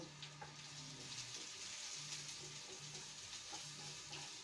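Garlic lightly frying in oil for a goat meat curry gives a steady faint sizzle, with low hum and a few soft clinks over the 4.5 seconds.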